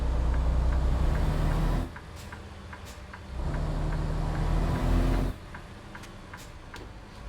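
A truck engine in American Truck Simulator drones steadily with a low rumble. The tone shifts to a quieter, softer level twice, as if under changing load.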